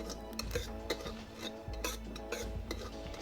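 Jhingora (barnyard millet) roasting in ghee over a wood-fired chulha, with repeated close scraping and clinking of a spoon stirring against the pot over a faint low sizzle.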